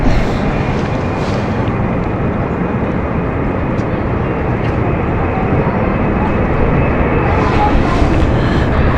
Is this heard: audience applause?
no